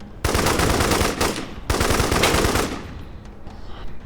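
Sustained automatic gunfire rattles through a Wasteland 3 battle in two long, dense bursts, loud and close, then fades into a softer tail.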